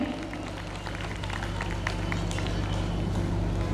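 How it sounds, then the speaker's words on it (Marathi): A crowd claps steadily and continuously at a Savitribai Phule birth anniversary celebration in Kalamboli, welcoming guests, over a low hum from the hall. "आपण सर्वांनी एकदा जोरदार टाळ्यांच्या आवाजात त्यांचं स्वागत केलं पाहिजे. टाळ्यांचा आवाज आला पाहिजे."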